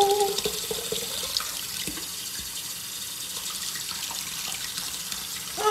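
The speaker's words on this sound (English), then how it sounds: "Right, get some water in here." Water runs steadily from a tap into a sink, a close, continuous hiss with faint clinks of handling and no talk over it.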